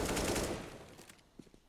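A rapid burst of automatic gunfire rattles in a Counter-Strike match on the Inferno map, loud at first and then fading, with a few softer shots after it.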